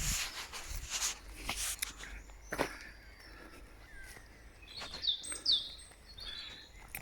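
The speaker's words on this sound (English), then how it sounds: "I can hear the birds." Birds call and chirp in scattered bursts with a few harsher caws, set against quiet outdoor ambience and occasional soft footsteps, in a bluebell woodland in Coventry, UK.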